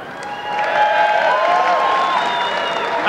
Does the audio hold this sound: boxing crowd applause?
yes